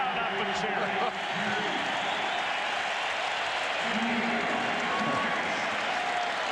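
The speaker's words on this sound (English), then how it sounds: "he gets the crowd up and cheering" A football stadium crowd at an NFL game between the New York Jets and New England Patriots cheers and applauds loudly and steadily after a completed pass, a dense roar that fills the whole stretch, with a commentator's voice over it.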